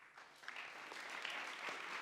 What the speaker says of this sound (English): Big applause for them as well.